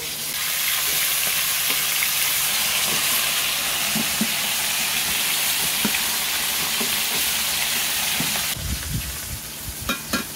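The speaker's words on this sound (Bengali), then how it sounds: "মাছগুলি ভাজা হয়ে গেছে, এবার আমি তুলে নেব।" Hilsa fish pieces frying in hot oil, a steady broadband sizzle held for about eight seconds, then a louder burst of crackling and clatter near the end as the fish is lifted out.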